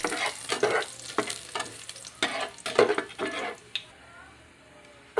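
Oil and garlic sizzling in a pan while chicken tinola is cooked, with repeated stirring clatters and scrapes over a steady close frying hiss.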